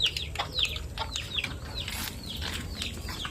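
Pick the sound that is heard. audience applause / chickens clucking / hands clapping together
chickens clucking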